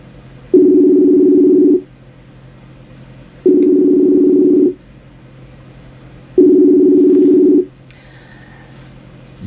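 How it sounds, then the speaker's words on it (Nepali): A Messenger voice call rings out in three long, steady electronic tones, evenly spaced with gaps of quiet between them, loud and alone with no talking. "म खेमराज पन्त सरसँग मेसेन्जर कलमा जोडिने प्रयास गर्दैछु र उहाँलाई कल गरिराखेको छु।"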